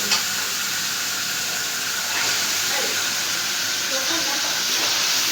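Meat tipped into a spice paste already fried until the oil separates, giving a steady broad sizzle and hiss throughout, with faint stirring scrapes and no voices over it.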